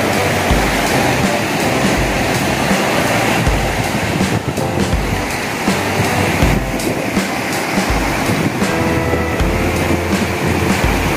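The Chinna Suruli double waterfall thunders nearby, a loud, constant roar of rushing water with uneven surges across the whole stretch.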